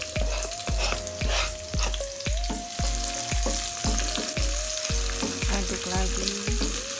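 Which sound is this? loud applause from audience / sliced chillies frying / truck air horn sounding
sliced chillies frying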